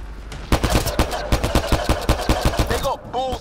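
Gunfire in Mass Effect Andromeda rings out as a rapid, evenly spaced series of sharp, loud reports at close range. An electronic warble follows near the end.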